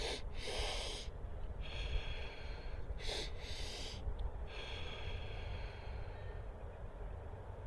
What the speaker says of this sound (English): a double breath in through the nose and then a single breath out through the mouth